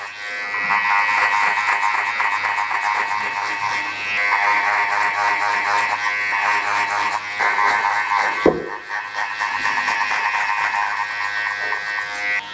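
Electric hair clippers fitted with a one guard buzz steadily through a fade blend during a haircut, a close continuous drone that changes a little as the strokes shift, with one sharp click partway through.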